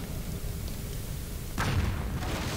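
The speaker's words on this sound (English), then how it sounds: "There is an explosion." Explosion in the horror video game Nightmare House 2, a single muffled boom that hits midway through after a low rumbling background, moderately loud and alone.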